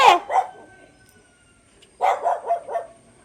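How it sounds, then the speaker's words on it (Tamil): A dog barks sharply once, then after a short pause lets out a quick string of three or four barks, close by. "நாய் வருது"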